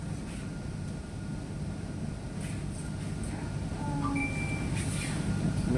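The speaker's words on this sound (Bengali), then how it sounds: "ট্রেন যাচ্ছে" A train passes on a line beside the route near Whitefield, heard as a steady rumbling roar that slowly grows louder, with faint brief tonal squeals over it.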